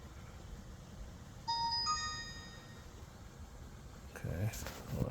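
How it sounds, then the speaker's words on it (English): Factory warning chime of a 2008 Cadillac DTS sounds through the radio as a short series of soft tonal dings, under steady background noise, followed by a brief rustle near the end. "You have to replace the chime, the factory chime that comes through the radio."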